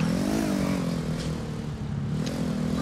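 Motorcycle engine in the video game GTA 4, a steady mid-pitched drone that holds close and loud for a few seconds with a slight rise and fall in revs.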